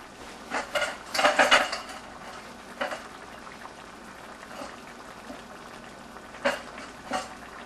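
A utensil stirs cooked rice into a pan for stuffed bell peppers, giving scattered metallic scrapes and clinks: a busy cluster early on, then a few isolated taps later, close and moderately loud.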